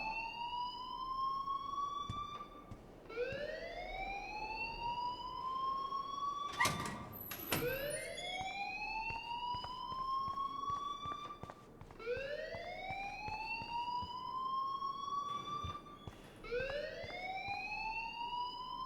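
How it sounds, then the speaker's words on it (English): A school fire alarm sounds in the video game Life is Strange, repeating rising electronic whoops in a regular cycle, loud and continuous, with a brief clatter partway through. "please turn off that alarm since that's your job."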